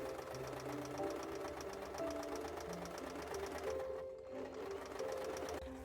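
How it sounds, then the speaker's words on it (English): A sewing machine runs steadily inside a van, its needle mechanism giving a fast, even clatter close by, with a low hum beneath and a brief pause in the stitching near the end. "Setting up the sewing machine in a van is easier than I thought"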